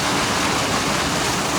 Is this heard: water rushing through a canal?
yes